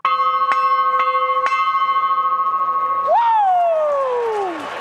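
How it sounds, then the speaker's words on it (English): A bell rung to open day 2 of an Australia versus West Indies cricket Test rings a few sharp strikes in quick succession, its clear tone sustaining, then a rising-and-falling ring sweeps through as the sound fades. "Former Aussie opener Greg Blewett rang in day 2."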